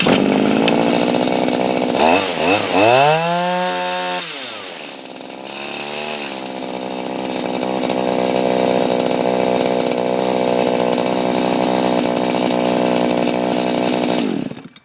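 A small two-stroke engine on a Shindaiwa/Echo M230 pole saw, after a fuel-leak repair, revs hard and rises in pitch, then drops back briefly before holding a loud, steady full-throttle whine and cutting off abruptly at the end.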